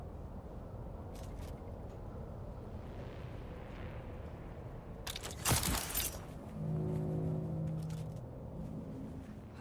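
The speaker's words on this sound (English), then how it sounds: "Who the fuck is throwing a grenade at me?" A single loud grenade blast in the game Dune: Awakening bursts out mid-stretch over a low steady rumble, followed by a fading tonal hum.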